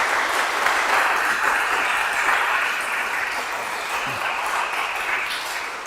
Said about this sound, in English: You can clap again, I think.